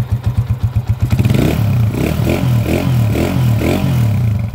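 A 2004 Honda TMX155 motorcycle engine idles loud and close, its firing pulses steady at first and then swelling in a string of repeated revs, with a loose fuel tank rattling and clattering over the engine.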